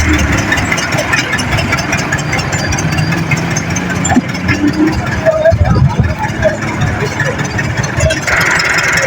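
A model 385 tractor idles with a steady mid-low engine drone and some knocking, running throughout under nearby conversation and background noise.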